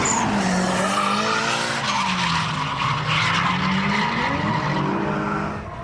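Drift cars sliding at Nikko Circuit, a drift track north of Tokyo, loud screeching tires wailing over revving engines whose pitch swoops up and down, close and continuous.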